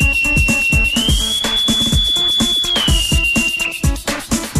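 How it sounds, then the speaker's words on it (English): A bosun's pipe, the naval call whistle, sounds one long sustained shrill tone that rises in pitch, holds, then falls back, loud and close over a rhythmic mechanical clatter from factory machinery. "bosun's pipe used by naval officers to issue commands and salute dignitaries."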